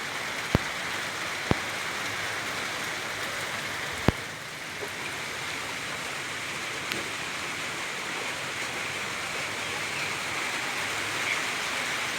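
Steady rain pouring down in a dense, even hiss, with a few sharp drips or taps standing out near the start.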